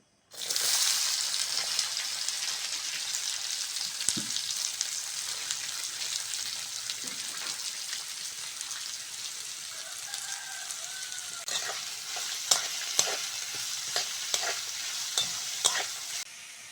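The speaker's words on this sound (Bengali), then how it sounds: "কড়ার মধ্যে সাদা তেল দিয়ে দেবো তেলের মধ্যে কুচনো পেঁয়াজ আর কুচনো গাজরটা দিয়ে দেবো" Chopped onion and carrot fry in white oil in a kadai, a steady close sizzle with crackling spatters, joined later by sharp, rhythmic scrapes of a spatula stirring the pan.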